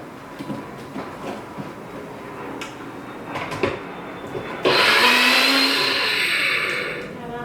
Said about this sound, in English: Okay, we're going to blend.